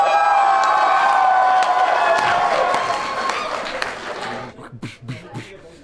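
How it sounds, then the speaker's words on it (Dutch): Convention crowd at Nishicon 2013 claps and cheers in a loud, dense wash of applause that thins and fades after about four seconds, leaving scattered claps and voices. "Applaus voor mij!"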